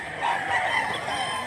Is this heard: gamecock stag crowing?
yes